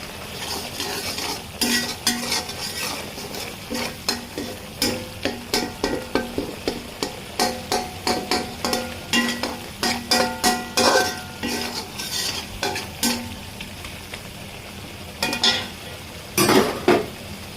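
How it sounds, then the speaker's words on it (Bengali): Spices for a Bengali beef white-liver bhuna being stirred and fried in a pan, with repeated rhythmic scraping strokes over a steady sizzle, close and fairly loud, with occasional clinks of the spoon against the pan. "মশলা দেওয়া হয়ে গিয়েছে এখন এটাকে ভালোভাবে মিশিয়ে নিতে হবে মশলাটাকে এখন পাঁচ মিনিট ভালো করে কষিয়ে নিতে হবে"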